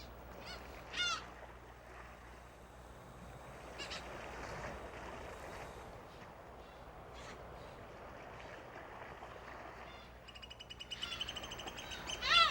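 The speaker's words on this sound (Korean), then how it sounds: "번식기 검은머리 물대새들은 특히 자신의 영역을 지키기 위해 더욱 예민해진다." Eurasian oystercatchers calling on a coastal mudflat in breeding season: sharp piping calls ring out briefly near the start, then a steady wash of ambient noise, and a louder burst of shrill, rapid calls rises at the very end.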